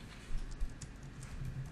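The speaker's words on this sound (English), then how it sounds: "I'm getting a little tired of typing this JSON code." Soft, quick keystrokes on a computer keyboard while PHP code is typed, a faint run of light clicks with a couple of slightly firmer taps, close by and with no voices.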